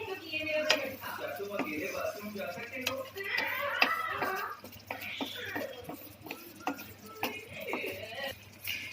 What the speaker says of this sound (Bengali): একটু একটু করে মশলার মধ্যে মাছগুলোকে মিশিয়ে নিতে হবে